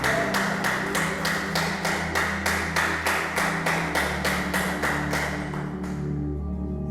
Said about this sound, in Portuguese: Vamos dar uma linda salva de palmas para o Senhor